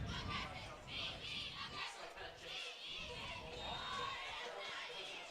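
A crowd at a high school football game murmurs and shouts in a steady, moderately loud wash of voices and cheers, with scattered higher calls rising throughout.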